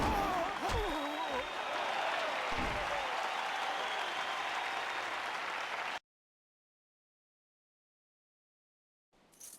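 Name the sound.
crowd applauding in the video game Jade Empire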